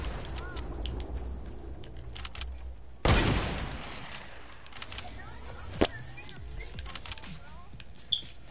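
Gunfire in the Fortnite video game: a single loud burst erupts midway and decays, followed by a couple of sharper shots later, all set against quiet game ambience with light voice activity underneath.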